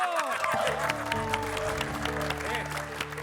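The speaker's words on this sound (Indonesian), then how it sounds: "Yo tepuk tangan buat Mas Eko." An audience claps for Mas Eko at a comedy variety stage show, the applause mixing with sustained band music and a short vocal phrase, steady and moderately loud throughout.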